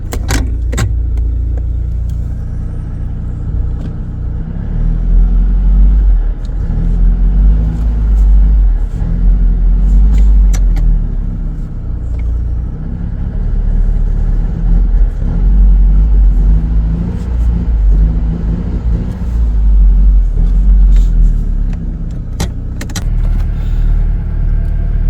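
A Mercedes W124 wagon with a swapped engine drives on its first test run, a loud, steady low engine drone and road rumble heard from inside, rising and falling slightly with faint rattles.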